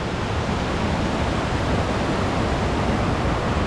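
A waterfall in Baco, Oriental Mindoro roars loud and close in a dense, unbroken rush of falling water that stays steady throughout, with no voices.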